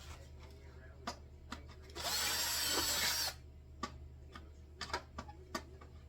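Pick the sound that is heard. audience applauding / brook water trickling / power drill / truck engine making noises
power drill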